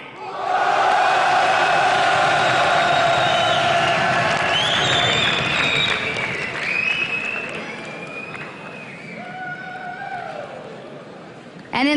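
An esports arena crowd at a 2013 LCS EU Spring League of Legends match roars with sustained applause and cheering for Fnatic. Loud, dense clapping carries whoops and whistles, then eases slightly toward the end.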